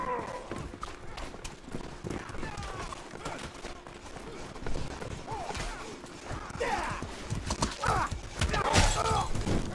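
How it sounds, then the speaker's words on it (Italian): In the medieval combat video game Mordhau, a horse's hooves clatter in a rapid gallop amid battle noise, with whinnies rising near the end while someone talks over it. "Ostia, un cavallo."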